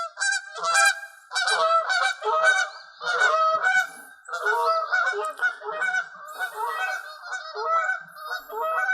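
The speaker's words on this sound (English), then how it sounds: "We have geese coming over." A flock of geese honking repeatedly overhead, loud and continuous, with overlapping calls from many birds and no talking.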